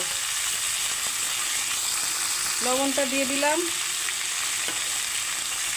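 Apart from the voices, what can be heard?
green banana, papaya and potato frying in a pan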